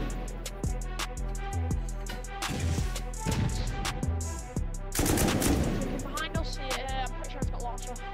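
Rapid bursts of automatic gunfire and scattered single shots from the console edition of the video game Rust, loud and near, repeating in clusters throughout.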